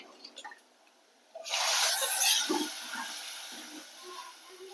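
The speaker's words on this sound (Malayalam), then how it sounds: "പുളി വെള്ളം പിഴിഞ്ഞെടുത്തതാണ് ഒഴിക്കാം" Tamarind water pours into a pot of curry with a sudden hissing splash that tapers into softer bubbling and sizzling, no voices present.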